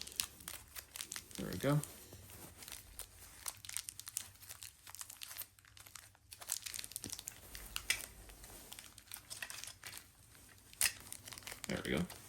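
Crinkling plastic bag being torn open around a Plarail toy train, a string of close crackles and rustles that come and go across the clip, with someone talking over them.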